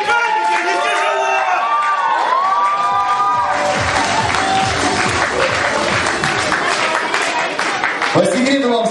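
An audience at a children's sports KVN comedy contest breaks into sustained clapping mixed with cheering and children's shouts, loud and close, with some voices heard before it builds.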